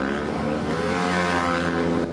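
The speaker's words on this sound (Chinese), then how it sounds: "慌乱中有人猛催油门" A car engine revved hard close by during a late-night street-racing gathering as the racers scatter from police, a loud, sustained roar with a shifting pitch and no voices over it.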